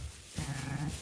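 Young lambs on a farm give a brief, faint bleat, a single short wavering call heard alone and fairly close.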